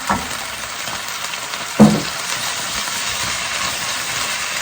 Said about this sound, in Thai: ใส่ผักแล้วก็กระเทียมลงไปเลยจ้า